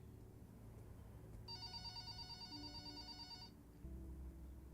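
Old-style telephone bell ringing in the horror video game Connection: one steady electronic ring lasting about two seconds, moderately loud over a low ambient game drone.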